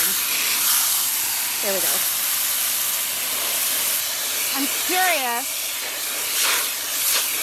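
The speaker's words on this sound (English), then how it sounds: "We're gonna start spraying." A garden hose sprays water to rinse yarn freshly dyed in a hydrosulfite indigo vat, giving a steady, loud, broad hiss throughout, with a person speaking briefly over it.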